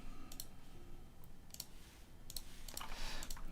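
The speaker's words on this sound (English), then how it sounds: "I can't have the sound because I'm typing" Quiet, close clicks of keys on a computer keyboard come in short irregular bursts over a soft background hum, with no talking.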